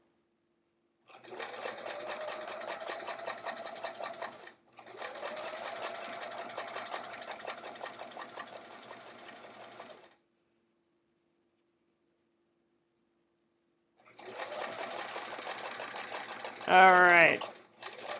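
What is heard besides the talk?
sewing machine stitching thick fabric layers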